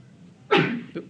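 A single sharp sneeze bursts out close by in a quiet room during a math class, followed by a brief softer exhale or sniff, with no one speaking.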